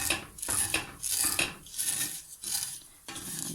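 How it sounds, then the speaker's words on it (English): A spatula scrapes and knocks against a pan while breaking up vermicelli as it roasts, giving repeated rhythmic metallic scraping strokes at close range, fairly quiet, with no talking. "You break them with the spatula"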